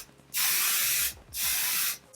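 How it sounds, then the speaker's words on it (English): Two short bursts of hairspray hiss close by, each lasting under a second with a brief pause between them. "a quick little spray again."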